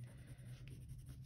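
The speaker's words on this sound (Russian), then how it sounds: "Теперь возьму светленький карандашик и наоборот вот добавлю штрихов." Coloured pencil strokes shading paper on a rabbit and daffodils drawing, a soft, continuous scratchy rustle up close, alone.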